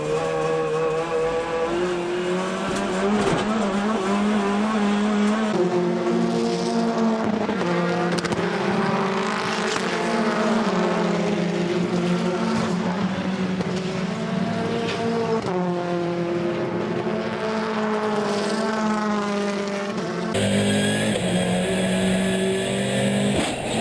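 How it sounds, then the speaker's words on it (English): Lamborghini race car losing control and running off through the gravel: a loud, close engine howl with shifting revs and tire noise through most of the stretch, ending in an abrupt change of sound. "The Top Cats car goes off through the gravel."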